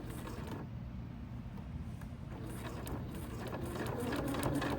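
A sewing machine backstitches a messenger bag, a quiet mechanical whirring and clatter of needle strokes that grows slightly louder and busier toward the end, with no talk.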